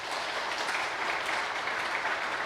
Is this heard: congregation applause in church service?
yes